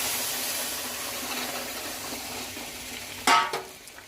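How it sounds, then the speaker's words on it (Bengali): Dal poured into a pan of fried onions, cumin powder and a little chili powder. A steady, close sizzle breaks into a sudden loud hissing burst that slowly settles. "এইবার দিয়ে দেব বন্ধুরা এই ডালটা।"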